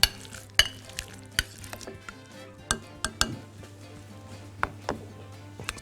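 Boiled egg and luncheon meat sandwich filling being mashed in a bowl, with sharp clinks and taps of a utensil against the dish, irregular and close, over a low steady background hum.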